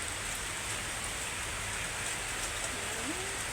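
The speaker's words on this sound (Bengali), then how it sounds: "এই যে বৃষ্টি লেজে পড়ছে, এই জন্য এইভাবে বসে আছে" Rain falling outdoors where a dog sits curled up, a steady soft patter of drops on surfaces heard from a distance at low level, with no one talking.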